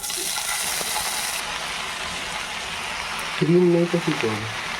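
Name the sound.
greens (kurol shak) added to hot oil with garlic, frying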